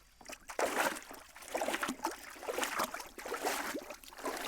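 Harvested root vegetables in a wire mesh basket are thrashed back and forth in a trug full of water, giving close, continuous splashing and sloshing with irregular surges and no talk.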